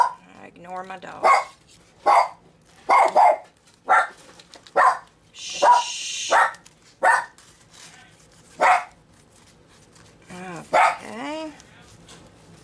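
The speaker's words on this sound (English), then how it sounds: "Ignore my dog." Pet dog barking repeatedly indoors, a string of loud close barks roughly once a second, with a brief hiss of noise midway and a person quietly hushing it.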